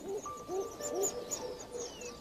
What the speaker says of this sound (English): Rock pigeons mate.